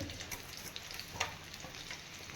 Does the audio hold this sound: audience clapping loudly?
no